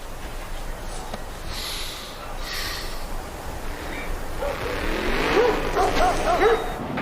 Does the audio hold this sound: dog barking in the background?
yes